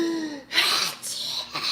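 A man imitates a sneeze with his voice, a sharp breathy burst followed by two more shorter sneeze-like bursts, close and loud, with a brief tonal vocal sound before it.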